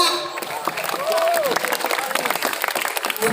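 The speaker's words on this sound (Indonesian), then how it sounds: "Tepuk tangan kepada anak." A crowd claps in a steady burst of applause at a school madrasah ceremony, with a voice briefly rising over the clapping.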